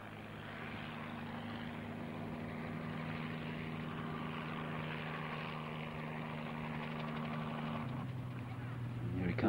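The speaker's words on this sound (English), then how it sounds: "Here he comes in for his landing" Propeller aircraft at an agricultural aviation reunion coming in to land, a steady droning engine with a low hum that holds throughout and shifts pitch near the end, while people talk faintly over it.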